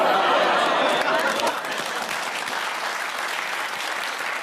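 A television studio audience applauds loudly, the clapping strongest at first then settling to a steadier patter, with some scattered chatter and light laughter mixed in.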